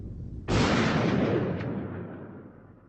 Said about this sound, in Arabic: سمع رضا طلقة نارية